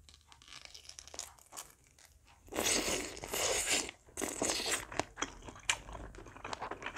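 Someone bites into a plump kielbasa sausage close to the mic, giving loud crunchy, snappy tearing bites followed by wet chewing and crinkling, with no talking.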